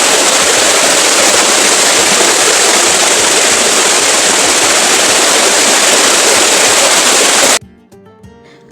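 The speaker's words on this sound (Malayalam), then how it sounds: "അതിൻ്റെ ഉള്ളിലൊരു വാട്ടർഫാളും ഉണ്ട് കേട്ടോ ഒരു ചെറിയൊരു വെള്ളച്ചാട്ടം പോലെ അവർ നിർമ്മിച്ചെടുത്തതാണ്" Loud, steady rush of falling water close by from a small artificial indoor waterfall at the Nilambur teak museum, a continuous dense splash that cuts off abruptly near the end.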